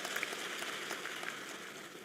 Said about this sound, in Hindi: ताली जोर से तो बजाओ, ऐसी मरी मरी बजा रहे।